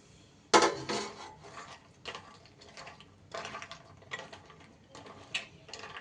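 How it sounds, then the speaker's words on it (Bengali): Fried lentil dumplings and potatoes tumble into a cooking pot in a series of close clinks and clatters, with a sharp first knock followed by softer metallic scrapes and taps spaced over several seconds. "এইবার ভেজে রাখা বড়ি আর আলুগুলো এর মধ্যে দিয়ে দিচ্ছি।"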